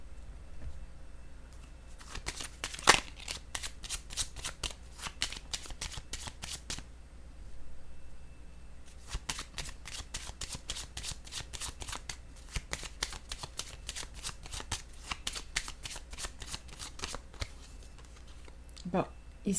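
Tarot cards being shuffled in rapid riffling bursts, crisp and close, with pauses between bursts and a quiet voice talking at times.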